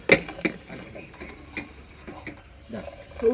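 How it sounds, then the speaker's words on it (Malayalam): Washed, dried herbal medicine spices for chicken soup being dry-roasted in a pan, heard as scattered scraping and clinking of a spoon stirring, with a faint dry rustle between the strokes and no oil sizzle. "ഇതാ കോഴി മരുന്ന് കഴുകി ഉണക്കിയതാണ് കരിയാണ്ട് വറുത്തെടുക്കണം"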